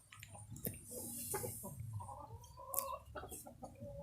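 Roosters and hens cluck and murmur nearby in a low, steady chatter, with occasional higher squawks and bird chirps in the background.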